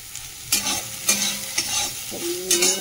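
Boiled soybean chunks frying with turmeric and salt, loud close sizzling with five or so sharp stirring scrapes in an uneven rhythm.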